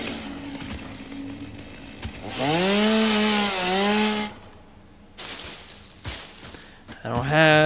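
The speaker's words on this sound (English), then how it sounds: "All right, chainsaw." A chainsaw in Satisfactory revs up and cuts, a rising buzzing whine that holds for about two seconds with a dip in pitch, then cuts off, surrounded by speech before and after.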